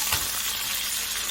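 Beef frying in a hot pan gives off a steady, close hiss of sizzling, a short unbroken burst with no one talking.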